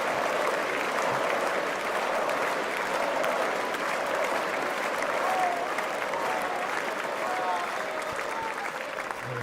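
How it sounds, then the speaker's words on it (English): Crowd applause for a former fire chief on stage, a steady, fairly distant wash of clapping that holds level for the whole stretch with faint voices mixed in. "People began applauding."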